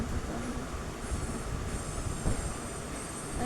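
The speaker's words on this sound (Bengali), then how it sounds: "গাইজ আমি ট্রেনের সাথে এখন আমার রেস করাবো" A train in a mobile video game rushes past with a steady, loud rumbling roar and faint metallic wheel squeal throughout, with no talking.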